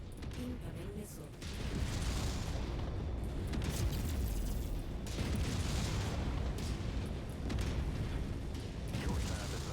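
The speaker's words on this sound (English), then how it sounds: "My kill is about to explode." Heavy booming blasts and rumbling debris from a mech blowing apart in the MechWarrior 5 video game, a loud sustained roar with layered impacts, mixed with game voice chatter.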